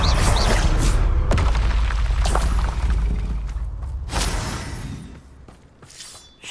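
Loud, close explosions from the Bombarda spell in Hogwarts Legacy: heavy booming blasts with shattering debris that fade and then burst again near the end.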